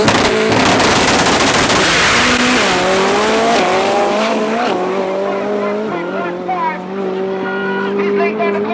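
A drag race car at full throttle on a strip at Tarlton International Raceway, a loud, close engine roar climbing through rising gear-shift pitches before fading as it pulls away.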